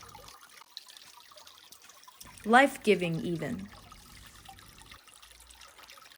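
Water trickles steadily from a spring source at a lakeside spot in Braslaw, Belarus, a soft continuous flow under a brief stretch of someone talking.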